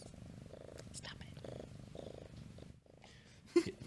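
A cat purrs loudly and close up in continuous rhythmic pulses, briefly pausing before a short sharp noise near the end.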